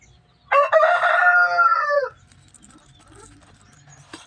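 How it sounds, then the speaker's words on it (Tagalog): A rooster crows once loudly and close in a long drawn-out call, followed by faint scattered clucks and soft background noise. "Sabi ng manok, tigkain na na."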